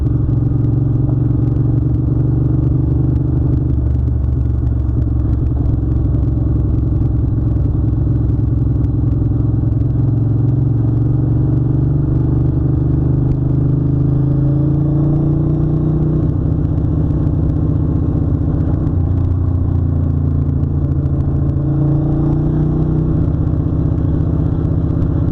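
A 1993 Ducati 750 Super Sport motorcycle engine runs steadily and close while riding on the road, its pitch rising and falling through gear changes and acceleration, with no talk over it.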